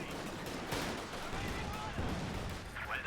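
Battlefield blasts and gunfire in a competitive real-time strategy game match, a grenade among dense, continuous explosions and shots, with commentators talking over the action.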